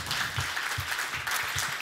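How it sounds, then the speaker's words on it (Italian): An audience at a nutrition and genetics conference in Milan breaks into close, steady applause, with a short burst of many hands clapping together at moderate loudness. "vi invito a fare un applauso"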